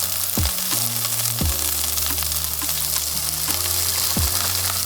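Fried rice sizzling with garlic in a lightly oiled pan, a steady close frying hiss throughout, broken by several sharp clanks and scrapes of a utensil against the pan.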